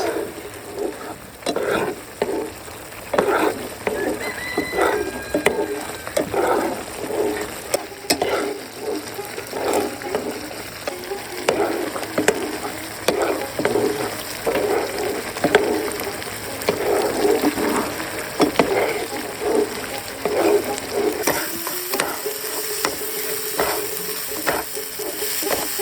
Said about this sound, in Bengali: এবার দিয়ে দিচ্ছি চিনি, সুন্দর মতো নেড়ে নিচ্ছি।